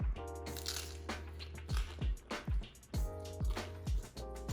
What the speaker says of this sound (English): I take a bite first